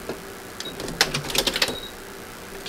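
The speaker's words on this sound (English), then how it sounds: "I'm going to sew all across to make sure it is all tightly sewn together." A sewing machine stitches across fabric-covered rope in a short close burst of rapid clicking stitches, with quiet handling noise before and after.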